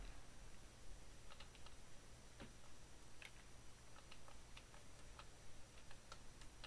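Someone types on a computer keyboard with sticky keys, a broken button among them, during a Mario and Luigi Superstar Saga session. The quiet, irregular clicks come in short bursts over a faint background hum.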